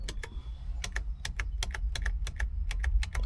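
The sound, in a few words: Toyota Camry cruise control switch clicking metallically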